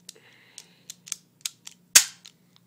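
An airsoft gas blowback 1911 pistol fires about eight sharp cracking pops in quick irregular succession, close and crisp against near silence, with one louder snap near the end.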